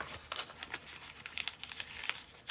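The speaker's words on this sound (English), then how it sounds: "So I have these little glassine bags, and we can do the same type thing with these." Small glassine bags are handled up close at a crafting table, giving soft, irregular crinkling and rustling with little crisp peaks and no voices.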